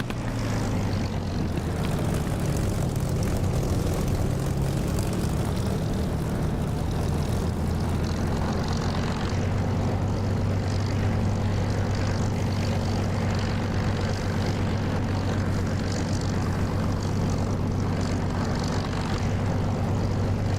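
A military aircraft in the DCS flight simulator taxis onto runway 26, its engine giving a constant loud drone with a steady low hum throughout.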